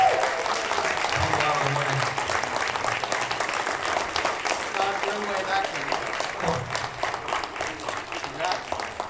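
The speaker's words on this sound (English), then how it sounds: "Can we get a big round of applause for these guys?" An audience applauds a band at a disability and mental health summit performance, steady mid-level clapping that continues throughout, with voices and some cheering mixed in and the clapping slowly thinning toward the end.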